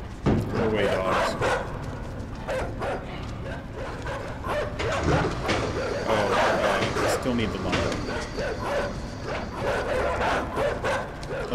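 Dogs barking and yipping repeatedly in the video game Inside, fairly loud and close, mixed with mechanical game noise while someone talks over them.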